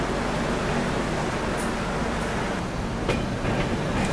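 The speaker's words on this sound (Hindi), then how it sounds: "फिलहाल हम लोगों का डिपार्चर हो रहा है हाजीपुर जंक्शन से" Train pulling out of Hajipur Junction, the 22412 Arunachal AC Superfast, in heavy monsoon rain: a steady, dense rolling rumble with faint clicks heard from inside the coach, with no voices.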